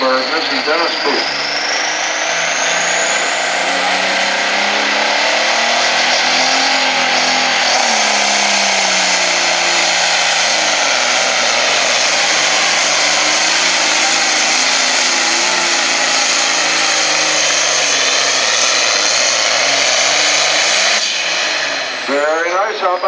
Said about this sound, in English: Keep your eyes on this tractor, folks.